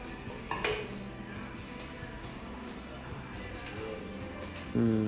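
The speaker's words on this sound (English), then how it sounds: "Action on the big blind is counting his chips, taking his time." A poker player at a live cash game counts his chips: a few sharp clicks near the start and end rise over a quiet, steady room background.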